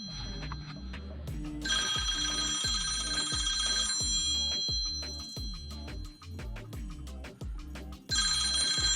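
A cell phone ringtone imitating an old telephone bell rings in long metallic trilling bursts separated by pauses, loud and clear on its own, with rhythmic knocking beneath.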